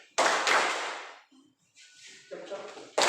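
A classroom of students claps on command, two sharp group claps close together near the start, then a short voice and another clap burst at the end.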